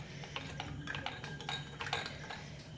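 A spoon works through thick, set sour curd in a bowl, giving light scraping clinks and taps at an irregular rhythm, close up and fairly quiet, with no talking.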